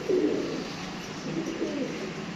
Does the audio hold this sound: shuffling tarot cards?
no